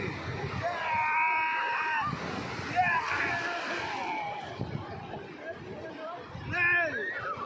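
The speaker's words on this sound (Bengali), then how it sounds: "তাই জলে সবাই দেখুন ঢেউ আসছে" Sea waves splash and wash in at Bakkhali beach, a steady surf rush that runs throughout beneath loud shrieks and excited shouting from bathers nearby.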